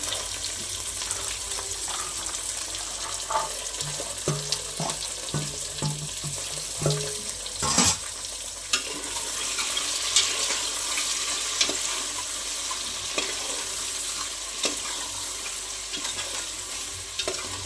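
Beans, peas and potato pieces fry in oil for vegetable biryani, giving a continuous hiss and sizzle with occasional spoon scrapes and knocks against the pot.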